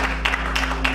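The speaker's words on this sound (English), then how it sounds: "you have to clap your hands and give God some praise for today" Church congregation clapping hands during a Sunday service: steady rhythmic claps, about three per second, over a constant low hum.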